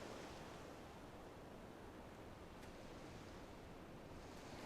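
Ocean waves in Final Fantasy XIV, a faint, steady broadband wash of surf like distant breakers rolling in, continuous with no clear individual crashes and no voices.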